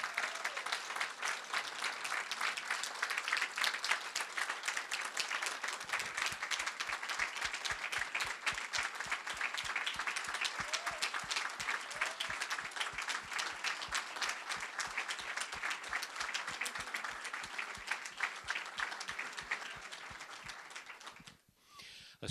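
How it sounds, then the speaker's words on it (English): Colleagues give retiring university faculty a standing ovation, sustained dense applause from a large audience in a hall that swells into rhythmic unison clapping before stopping abruptly at the end. "A standing ovation from your colleagues."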